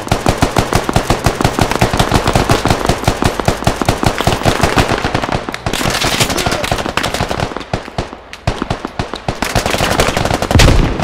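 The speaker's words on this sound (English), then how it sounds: "What are you guys shooting at right now?" Rapid automatic gunfire in a video game, loud, dense bursts of shots rattling almost nonstop, with short pauses and a heavier blast at the end.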